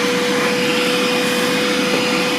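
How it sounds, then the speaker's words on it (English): A shop vac sucks up drilling debris from a drill press, giving a loud, steady motor whine with a sustained tone and airy rush that holds evenly throughout with no voices. "you can just clean the work up as you're going with the shop vac"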